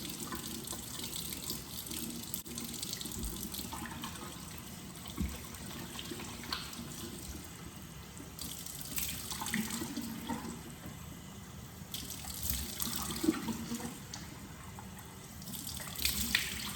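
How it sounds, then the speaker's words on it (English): A tap runs steadily into a sink while a face is gently rinsed, a soft continuous flow of water with faint splashing shifts, quiet and close. "Very gently rinse the face."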